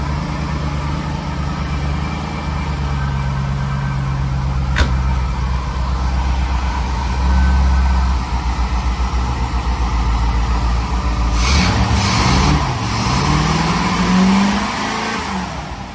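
Corvette ZR1 with LT5 engine running after an injector change, a steady loud idle with a low droning hum, one sharp click midway and a brief rev rising near the end, no talking.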